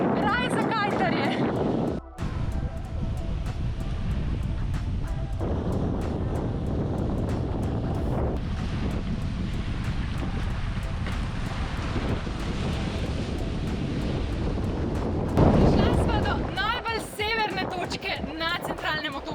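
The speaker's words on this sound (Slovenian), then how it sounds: "ful piha, raj za kajtarje" Strong wind blows on the coast of Malta, a constant heavy roar buffeting the microphone with rumbling gusts, with people talking over it.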